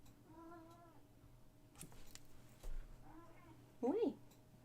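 Pet cat meowing softly several times in a quiet room, short rising and falling calls amid a low electrical hum and faint background talk.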